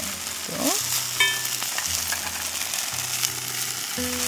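Tofu pan-frying for a soy-braised tofu dish, flipped over as it turns golden; a steady, close sizzle and crackle runs throughout, with a couple of light utensil knocks and no talking.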